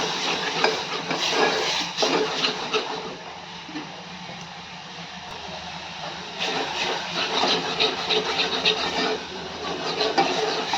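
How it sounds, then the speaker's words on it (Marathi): A spice paste with added spice water sizzles softly in a pan while a utensil scrapes and stirs in repeated bursts, close by. "एक एक मिनिटभर परतून घेऊयात"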